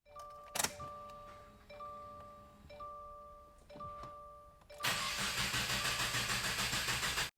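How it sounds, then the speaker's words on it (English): A Subaru WRX FA20 boxer engine cranks and turns over, then catches and settles into a loud, steady rumbling idle close by, after a few faint tones. "start the car as normal"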